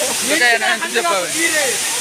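Steady rushing water with a broad hiss from Sirimane Falls near Sringeri, fairly loud and continuous, with a voice briefly audible over it.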